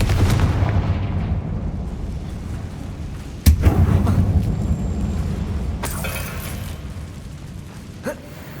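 In the video game Hogwarts Legacy, the Confringo fire spell goes off inside an abandoned mine tunnel. A loud sharp blast is followed by a rumbling tail, then a second crackling burst and a smaller thud near the end.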